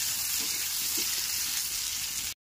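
Onion frying in a pan for a Bengali fish-head muri ghonto, giving a steady, close hissing sizzle that runs unbroken before cutting off abruptly at the end.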